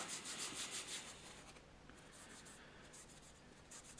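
Gun lubricant being rubbed onto a weapon makes a soft, quiet, rhythmic rubbing and scuffing heard close up, in steady strokes with no talking.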